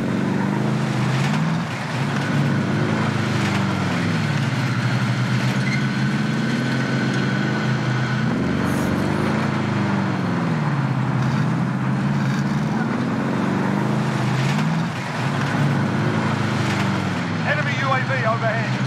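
A car engine in Call of Duty Warzone droning steadily while driving, its pitch rising and falling with the throttle in smooth sweeps, continuous and fairly loud, with occasional speech over it.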